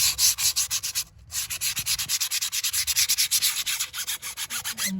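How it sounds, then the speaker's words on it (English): Sandpaper rubbed by hand over pitted spots on a Ram 1500 truck wheel makes rapid, steady back-and-forth scratchy strokes, close and loud with a brief pause, no voices. "We're gonna be sanding the whole wheel. I'm just trying to get the big pitted spots out."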